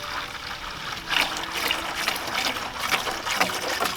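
Water dyed with RIT Cherry Red poured from a gallon jug into a 5-gallon bucket, a steady close trickle and splash with a few louder gushes partway through.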